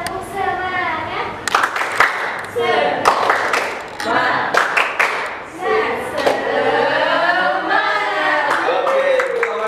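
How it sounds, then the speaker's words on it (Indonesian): A group of participants performs a rhythmic spirit-clapping routine (tepuk semangat) in a training class, bursts of clapping alternating with children's and adults' voices chanting along throughout. "Tepuk semangat."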